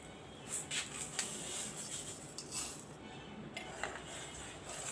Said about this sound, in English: I'll keep mixing the milk like this with the sugar first